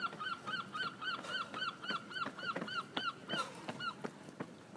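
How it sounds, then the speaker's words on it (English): A seagull cries in a rapid, even series of about a dozen short, sharp calls, fairly close and clear over a soft outdoor background. "there's a little seagull down here"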